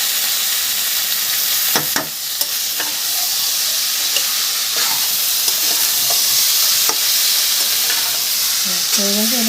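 Mankochu (taro root) frying in hot oil, a loud continuous sizzle with sharp spatula clacks and stirring scrapes against the pan, close up and without talk.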